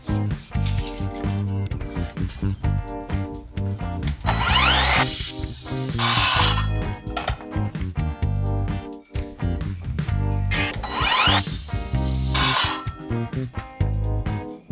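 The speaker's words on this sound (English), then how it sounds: "Now I've got the 5mm drill bit just to go all the way through so that that wood doesn't split" A power drill fitted with a 5mm bit bores all the way through a piece of wood for a rustic waney-edge coffee table, in two loud, whining bursts separated by quieter pauses, with clinks of tools between.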